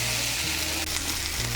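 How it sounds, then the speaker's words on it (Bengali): Potato pieces and yardlong beans being stirred into masoor lentils in a pan, a steady close sizzle with faint scraping throughout and no talking. "আলু আর বরবটিটাকে ভালো করে মিশিয়ে নেব মুসুর ডালের সঙ্গে।"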